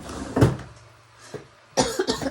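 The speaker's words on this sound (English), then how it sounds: "Excuse me for the croakiness and the coughing." Three harsh coughs from someone with a cold, the first loud and close, then a softer one and a final pair of rough bursts, separated by quiet pauses.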